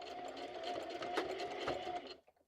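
A sewing machine stitching on a junk journal, one stitch forward then a back stitch: a close, steady mechanical whir with a couple of distinct clunks as it changes direction, stopping abruptly at the end.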